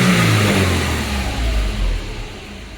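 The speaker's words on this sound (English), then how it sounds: "Give her a couple revs." A Subaru engine is revved a couple of times, a loud nearby roar that rises and then settles back toward idle, with no talking over it.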